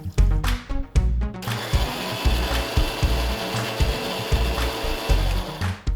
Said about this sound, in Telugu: కొన్ని పాలు పోసుకొని ఇప్పుడు దీన్ని మిక్సీ పట్టుకుందాం